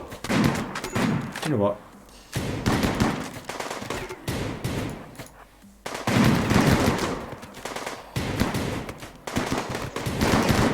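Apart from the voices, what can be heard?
gunfire from the video game Rimworld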